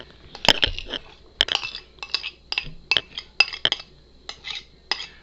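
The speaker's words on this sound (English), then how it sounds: "I'm going to add the rice." Rice is added to a bowl of vegan ceviche with carrots and jicama, producing a series of irregular close clinks and scrapes of a utensil against the dish, with no talking.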